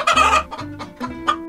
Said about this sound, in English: this kitty picked a fight with the wrong rooster